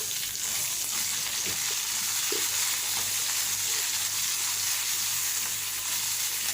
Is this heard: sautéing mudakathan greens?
yes